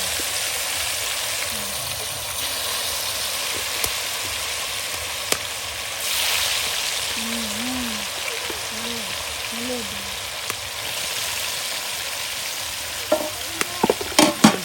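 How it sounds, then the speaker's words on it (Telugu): Gendi fish pieces coated with salt, chili and turmeric fry in hot oil for pickle, a continuous loud crackling sizzle with occasional stirring clatter and a voice talking faintly underneath. "ఇప్పుడైతే మనం ఉప్పు కారం పసుపు కలుపుకున్న ముక్కలను అయితే నూనెలో చేస్తున్నాము."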